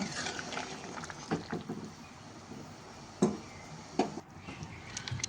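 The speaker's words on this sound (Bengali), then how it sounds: "এবার এটা আমরা কিছুক্ষণ ফুটিয়ে নেব।" A pot of banana kofta curry simmering and bubbling on the stove, with a steady low wash of boiling broken by a few sharper pops and clinks near the middle and end.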